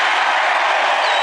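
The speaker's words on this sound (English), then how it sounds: "They're cheering environmentalism." A political rally crowd cheers and applauds in a dense, loud, continuous wash of noise for a brief moment, with no single voice standing out.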